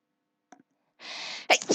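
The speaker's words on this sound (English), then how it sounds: "I'm gonna sneeze. I can feel the sneeze coming on." A person sneezes close up: a faint catch of breath, a drawn-in inhale, then a sharp explosive burst.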